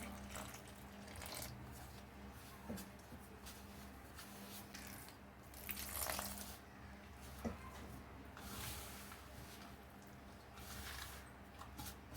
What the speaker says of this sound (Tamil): இப்போ கொஞ்சம் கொஞ்சமாக தண்ணி ஊற்றி மாவு பிசைஞ்சிக்கலாம்